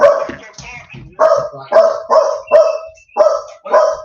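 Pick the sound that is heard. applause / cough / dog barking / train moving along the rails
dog barking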